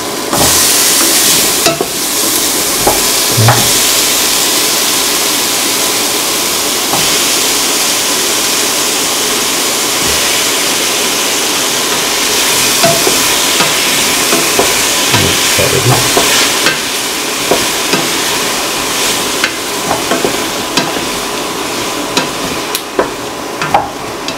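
Ash gourd pieces stirred through a hot pan, a steady broadband sizzle running throughout with scattered scraping clicks and knocks of the spoon, fairly loud and close, no voices.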